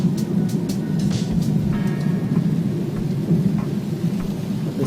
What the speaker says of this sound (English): It's raining heavily and I'm not using the wipers.